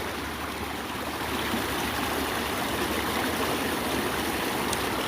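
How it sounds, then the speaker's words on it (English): Trickling water from a garden water feature at a farm, a steady broadband wash that stays even and fairly close for the whole stretch, with no voices over it. "Let's go over the water feature."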